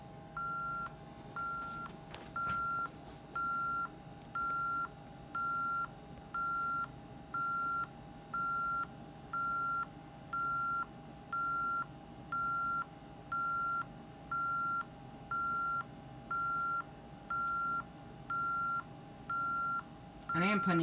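A security alarm keypad beeps while the system arms, sending out a long, even series of short electronic tones, about one each second, heard close with faint room noise beneath.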